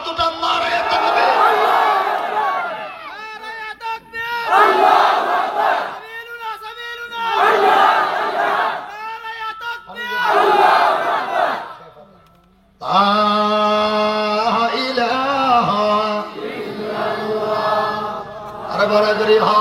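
A crowd at an outdoor Islamic sermon gathering shouts back in unison to the Naraye Takbir call, loud repeated chanted bursts separated by short pauses, with a lead voice between them.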